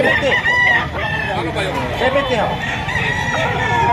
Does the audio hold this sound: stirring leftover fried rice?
no